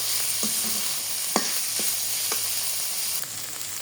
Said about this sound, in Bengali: সামান্য একটু লবণ দিয়ে হালকা আছে সুন্দর করে ভেজে নিব